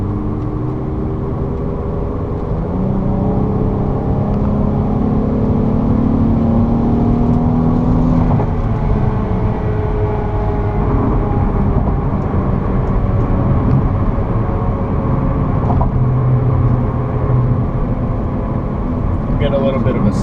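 A 2005 Infiniti G35 coupe's engine drones steadily from inside the cabin while driving, its pitch rising and shifting through the gears over constant road and wind roar, with a voice speaking over it.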